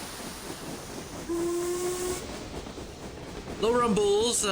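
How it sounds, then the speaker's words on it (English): A train in the video game Reverse 1999 rumbles along with a low, hissing background, while a steam whistle sounds briefly, and later wavering, shout-like voices rise over the noise. "Low rumbles, drowned voices, shouts, and stray sound in the train."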